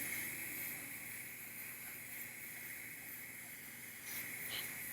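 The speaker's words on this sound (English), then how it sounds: "So I've got my airbrush locked in." An airbrush sprays bright flesh-toned paint onto a 1/4-scale Azog model kit, giving a faint, steady airy hiss that continues for several seconds with a slight swell near the end.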